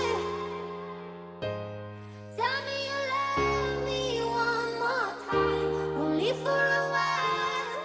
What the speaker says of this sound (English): Let's head over to the piano and figure stuff out.